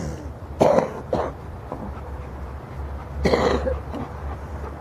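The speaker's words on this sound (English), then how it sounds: "can't really cough properly" A person coughing outdoors on a morning walk, two short rough coughs close together, then a pause and a longer throaty cough, fairly close and alone against faint background noise.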